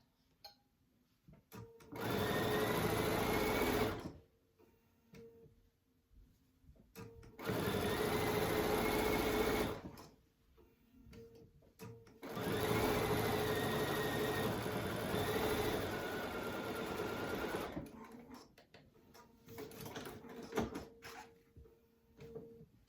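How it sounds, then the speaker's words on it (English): A domestic sewing machine back stitches fabric for a crochet needle case in three sustained runs of steady motor whir, close and fairly loud, separated by quiet pauses with faint handling noise and a weaker final burst. "I like to back stitch at the beginning and the end"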